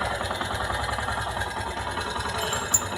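A Yamaha YTX 125 motorcycle engine running steadily at idle, a close continuous chugging drone with even rhythmic pulses and no talking.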